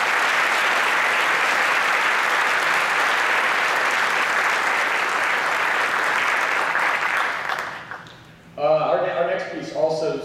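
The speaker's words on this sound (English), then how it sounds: "So we get a round of applause for them." A full round of crowd applause at a high school concert band spring concert, dense and steady for about eight seconds, then fading out as a voice begins speaking.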